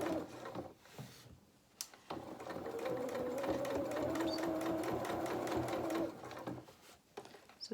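A domestic sewing machine stitches steadily around a dressing gown collar for a Luna Lapin toy, a smooth continuous mechanical whir of several seconds framed by brief handling clicks and pauses.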